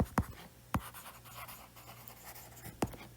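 Faint writing strokes during a physics lesson on electrostatics, with a few soft scratchy taps and squeaks spread irregularly over a low steady background hum, no voice.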